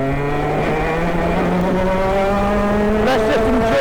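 A restored barn-find kart drives hard around a racing track, its engine whining steadily and close, with pitch climbing and dipping as it accelerates and brakes through corners. The snarl is loud and continuous throughout.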